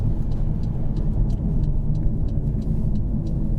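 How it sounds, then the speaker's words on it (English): A Mercedes-Benz eVito electric medium van on the road, a steady interior hum and rumble of motion and tyres, continuous and fairly loud with no voices. "Let's see if a medium van with an electric motor and powertrain can match up to its diesel brethren."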